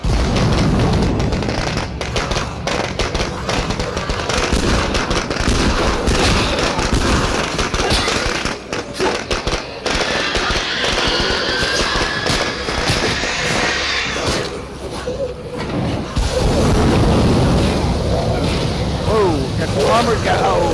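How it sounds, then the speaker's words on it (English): Firecrackers go off in the video game State of Decay 2 as a long stretch of dense, crackling pops and bangs, mixed with gunfire and heavy game noise, with a voice talking over parts of it. "I'm going to use some firecrackers here to sort of draw them out."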